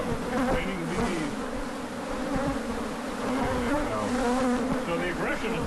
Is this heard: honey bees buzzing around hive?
yes